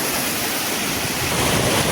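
A mountain stream in the Azad Kashmir countryside rushes steadily and loudly, a dense, unbroken wash of flowing water that fills the whole clip with no voices over it.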